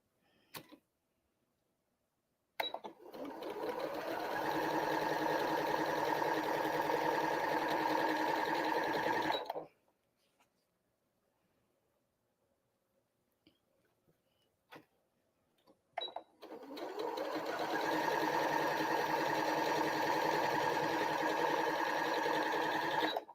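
A sewing machine stitches quilt pieces sewn right sides together in two long runs, a fast steady mechanical whir with a pause of near silence between them and small clicks at the starts and stops.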